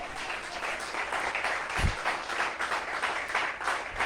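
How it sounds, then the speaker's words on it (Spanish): A church congregation applauds during a sermon, giving sustained, fairly loud clapping from many hands with one heavier thump partway through. "Denle ese aplauso al Rey de la Gloria."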